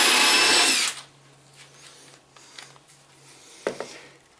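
A power drill drives a screw into a calliper sliding storage box in one loud, whirring burst of under a second, followed by faint handling clicks and knocks.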